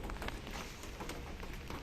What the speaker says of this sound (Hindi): साथ बारिश हो रही है